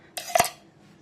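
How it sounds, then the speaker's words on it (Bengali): Freshly ground chutney is tipped onto a plate, giving a quick pair of clinking, scraping knocks of a utensil against the dish in an otherwise quiet moment. "এটা প্লেটে ঢেলে নেব।"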